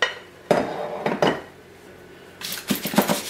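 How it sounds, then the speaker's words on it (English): A cake pan of almond cake batter shaken to level it, giving a few short metallic rattling clatters in separate bursts, close by and fairly quiet. "Just gonna give it a little shake to get it even."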